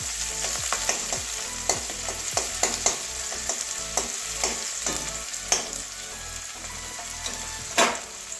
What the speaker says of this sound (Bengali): ভেজে নেবো কাঁচা গন্ধ যাওয়া পর্যন্ত পেঁয়াজের